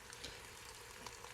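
Pot roast searing on a stovetop cooker at medium-high heat, a faint, steady, hissing sizzle with small crackles, quiet and continuous with no voices.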